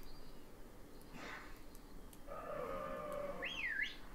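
Faint game sound effects in Pokémon Sword at Crater Lake with a soft whistle-like tone, a short rising and falling chirpy whistle near the end, over a quiet background with no speech.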